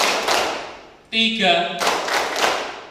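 A group claps in a counted rhythm at a vocational school gathering, with sharp close claps around a voice that briefly calls out the count.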